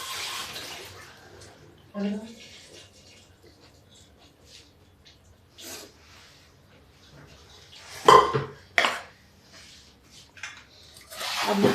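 Water from boiled chana dal poured through a strainer into a pot, with splashing and trickling bursts and clinks of metal utensils, quiet pauses between pours.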